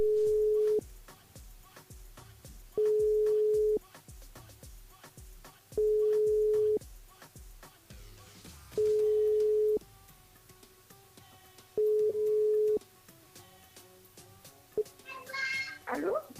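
A telephone line rings out in regular long tones while a radio show calls a listener on air, five even rings spaced about three seconds apart, with faint studio sounds and a brief voice near the end.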